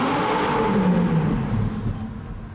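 A 2015 Audi R8 V10 Spyder roars steadily as its engine revs hard on the move, a loud, close, continuous drone that eases slightly toward the end, with no voices.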